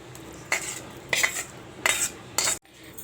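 A metal spoon scrapes and clinks against a steel vessel in four short, evenly spaced strokes as moong dal payasam with coconut, cashews and raisins is transferred, close and clear with no talking.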